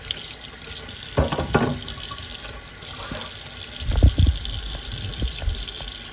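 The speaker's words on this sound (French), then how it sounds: "Nous allons laver nos légumes, comme vous les voyez ici." Tap water runs and splashes while vegetables are washed in a kitchen sink for a vegetable soup, a steady gush with louder bursts of handling and splashing.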